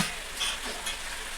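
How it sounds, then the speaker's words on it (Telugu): Water is poured into a pot of frying chicken for biryani, bringing a loud, close, steady sizzle and bubbling hiss with small surges and no talking. "ఇప్పుడైతే నేను వాటర్ పోస్తా."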